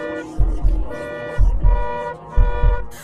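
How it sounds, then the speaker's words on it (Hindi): A cartoon car horn honks hard in three long, loud blasts, each one starting with a low thump, from a Hindi horror cartoon. "लेकिन आते ही कार ने जोर से हॉर्न दिया।"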